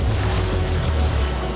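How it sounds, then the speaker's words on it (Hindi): A big Swarm tube filled with water is shaken by hand, giving a loud, dense, continuous rumbling slosh with no pauses, heard alone. "अब ये पानी से भर गया है तो मैक इस ट्यूब को शेक करेगा।"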